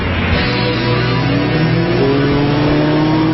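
A Mazda MX-5 sports car's engine revs loudly and close up, its note climbing steadily in pitch as it accelerates with no break and no talking.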